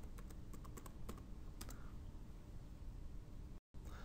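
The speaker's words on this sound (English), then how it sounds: "so I can type in a date filter." Someone types a date filter on a computer keyboard: a few light, faint key clicks over a steady background hiss, then quiet hiss.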